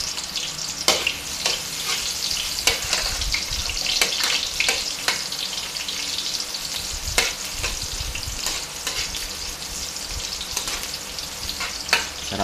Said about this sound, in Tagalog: Magisa na tayo ng bawang at saka sibuyas.